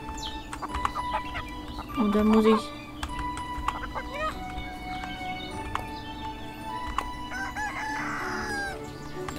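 Sick hens and a rooster on a farm in Everdream Valley cluck and crow against a busy background of music and someone talking in German, with one louder squawk standing out partway through.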